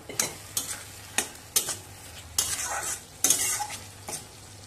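Fried potatoes are stirred into a tomato spice masala in a pan. Steady sizzling runs under repeated scraping strokes of a spoon, about one stroke per second, close and fairly loud.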